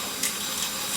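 Running tap water splashes steadily over a freshly peeled hard-boiled egg, a brief, close, continuous hiss with small shifts as the egg is turned under the stream.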